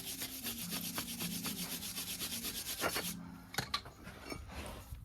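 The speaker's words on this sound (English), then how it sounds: "caliper carrier, positions where the pads sit in, just get them a wire brush up" A wire brush scrubs the pad positions of a front brake caliper carrier on a 2015 Dacia Duster in quick, steady rasping strokes for about three seconds, then a few scattered scrapes and knocks.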